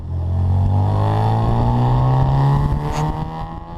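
An Austin Healey Bugeye Sprite with a 1275 engine barks through a twin tip custom muffler, a loud close rev that rises steadily in pitch and then eases off at the end.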